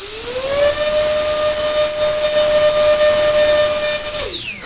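Cheap Chinese turbo blower spinning up to its maximum third power setting, a loud steady high-pitched whine with rising tonal harmonics that holds level, then winds down abruptly at the end; no voices.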